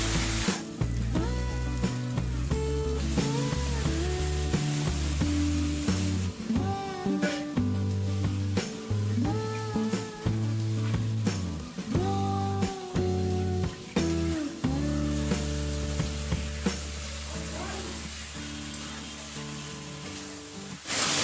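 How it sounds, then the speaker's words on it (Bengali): Chicken pieces fry and sizzle in hot oil with a cooked-down spice paste for an Indian-style chicken curry, a continuous crackling hiss with intermittent stirring scrapes and clinks, close and steady with no talk and faint background tones. "এবার আমি এর মধ্যে চিকেনটা দিয়ে দেবো।"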